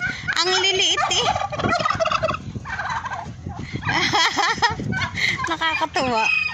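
Bantam chickens cluck and squawk in busy, overlapping bursts at a chicken farm in Jahra, Kuwait, close and fairly loud throughout.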